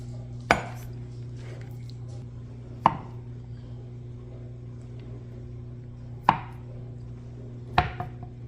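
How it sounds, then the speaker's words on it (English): Potatoes are cut on a cutting board for a potato salad, with four sharp knife strikes landing at uneven intervals over a steady low hum and no talking. "And this is the using the cutting board method. Cutting the potatoes."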